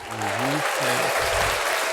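Audience applause bursts out at a podcast interview, steady clapping filling the room while a voice speaks over it at the start.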